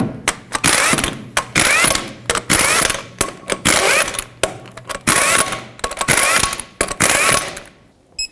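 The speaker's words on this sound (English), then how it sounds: "then we'll torque these in a cross pattern" A torque wrench or impact tool works the lug nuts on a Ford F-250 front wheel, giving loud, repeated bursts of ratcheting clicks with short pauses between them, close up and with no talking.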